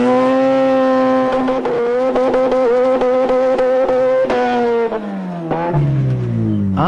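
Mazda RX-7 drag car accelerating hard down a drag strip, a loud high rotary engine scream climbing through the gears with brief shift breaks, then dropping in pitch as it pulls away.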